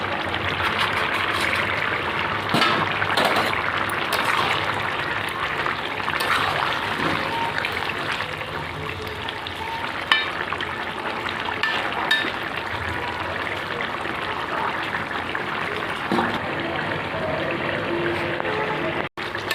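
Simmering bottle gourd curry bubbling steadily in a pot as fish are added, a continuous watery burble with small clinks and stirs, no talk.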